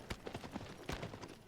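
Horse hooves beat in a quick, steady galloping rhythm in the video game Shadow of the Colossus, the footfalls close and moderately loud with no talk over them.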